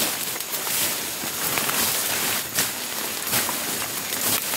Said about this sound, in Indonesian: Masih agak hujan sedikit.